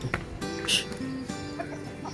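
Chickens cluck close by in a farmyard kept with ducks on a morning, with a few short, loud clucks and squawks over quiet rural background noise.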